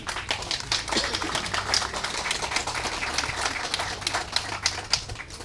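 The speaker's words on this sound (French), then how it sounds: "Il faut les applaudir encore." An audience applauds at a ceremony honouring Chinese ophthalmologists in an eye-care campaign: dense, crisp clapping of many hands, fairly close and steady throughout, with no talk over it.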